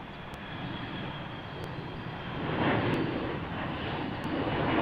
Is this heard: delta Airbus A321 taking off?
yes